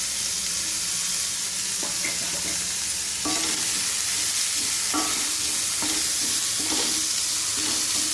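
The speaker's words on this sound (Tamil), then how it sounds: "இந்த வெங்காயம் நல்லா வதங்கிறதுக்கு நம்ம இதில் உப்பு சேர்த்துக்கலாம்" Onions sautéing in a hot pan with asafoetida, a loud continuous sizzle close up, broken by a few sharp clinks and scrapes of a spoon stirring against the pan, with no talking.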